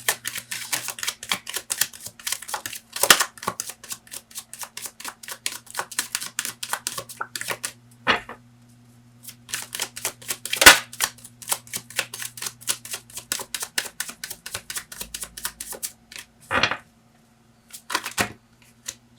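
A tarot deck is shuffled by hand, making rapid, crisp flicking clicks in repeated bursts with short pauses between them. The sound is close and clear, with no talking.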